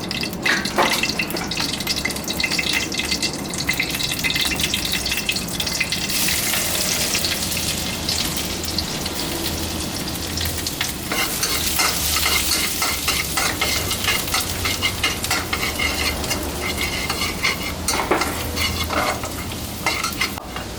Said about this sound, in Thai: ใส่น้ำมันลงไปเล็กน้อยนะฮะ เดี๋ยวนำกระเทียมลงไปเจียว